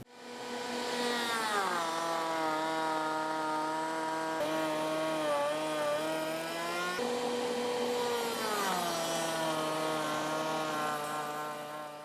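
Router bit cutting locking miter joints in wood for furniture legs, a loud continuous high-pitched whine that dips in pitch as the bit loads up under the cut, then recovers, with no talk.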